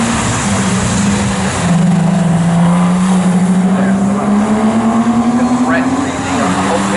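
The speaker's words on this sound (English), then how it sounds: "Big gaggle of cars actually coming down the pit straight right now." Porsche Boxster race cars roar down the pit straight at Snetterton in a loud, sustained engine drone that shifts pitch as the pack passes, with a commentator talking continuously over it.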